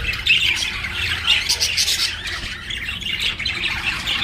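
Budgerigar chicks squawking continuously in a nest, a dense, shrill chorus of close, overlapping calls with no pauses.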